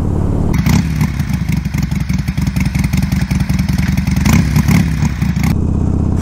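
A Harley-Davidson Sportster fitted with a Fuelpak 3 heard while riding, its V-twin engine loud and close with a rough, throbbing idle-to-rev pulse and steady wind rush, no voices over it.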